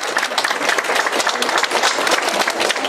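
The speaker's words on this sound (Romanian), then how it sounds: "Haideți, vă rog, să-l aplaudăm!" An audience claps together at a seniors' evening event in Iasi, a dense, steady wash of applause filling the room for the whole stretch, loud and close with no talk over it.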